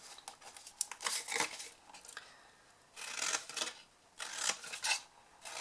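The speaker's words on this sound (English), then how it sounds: "And then I'm just going to cut some wedges out of the corner squares." Scissors snip wedges out of the corner squares of a scored, folded white card box, with short crisp cuts and paper rustles arriving in separate bursts, close and fairly quiet.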